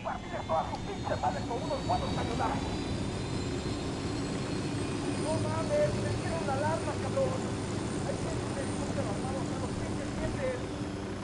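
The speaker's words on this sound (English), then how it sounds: "We got a chopper coming in." Helicopter approaching in the video game Ghost Recon Wildlands, a steady rotor and engine drone running throughout beneath people talking.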